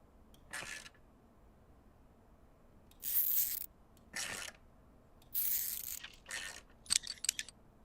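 Screws are tightened in the Car Dealer Simulator video game, heard as several short bursts of ratcheting mechanical clicks separated by near silence.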